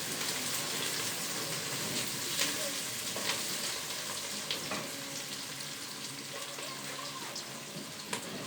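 Chopped onions and peppers fry in a pan, a steady close sizzle and crackle with faint scrapes and small pops scattered throughout, no voices.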